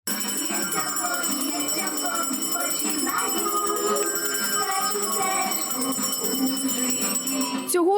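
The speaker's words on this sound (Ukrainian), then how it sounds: "Після привітань діти почули свій перший дзвоник" A school bell rings steadily and brightly for several seconds at a first-day-of-school ceremony for first-graders at a lyceum in Kremenchuk, over a busy background of voices and commotion.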